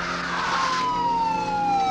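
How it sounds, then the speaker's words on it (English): A police car siren wails loudly as the vehicle races through red lights, a steady falling tone sweeping downward, with road noise from the moving car beneath it. "I got to blast the siren."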